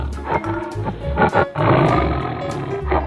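A tiger roars loudly and close in a children's animal segment, a few deep, rough bursts with short pauses between them.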